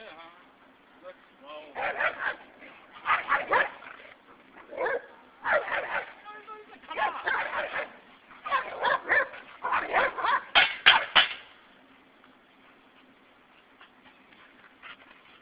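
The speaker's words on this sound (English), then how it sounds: "That's Lance barking?" A dog at a playgroup barks in repeated bursts, fairly distant and mixed with yips and whimpers, while people talk throughout.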